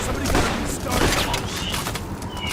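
Enemy gunfire in Payday: The Heist during a gold heist mission: a loud, dense, unbroken fusillade of overlapping shots fills the whole stretch, with voices talking faintly underneath.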